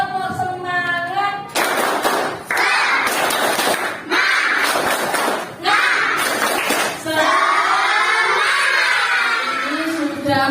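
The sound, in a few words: children doing a rhythmic clapping cheer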